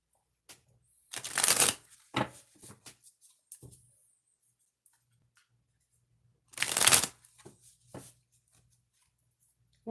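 Tarot cards get shuffled close up in two quick riffling bursts, with small taps and soft card handling in the quiet gaps between.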